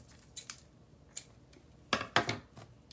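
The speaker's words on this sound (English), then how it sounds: "So cut another piece." Scissors snipping a piece of jute, a few sharp close cuts spaced out over a quiet background, the last two louder and quicker, no speech.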